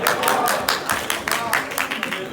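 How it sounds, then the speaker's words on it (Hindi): Audience at a mushaira poetry gathering claps in a short loud burst, with a voice talking over the applause. "इनके लिए तालियां बजाएं।"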